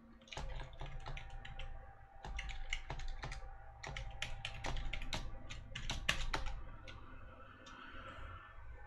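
A password is typed on a computer keyboard in rapid, uneven bursts of crisp key clicks with short pauses between runs, close and fairly loud, with no one talking.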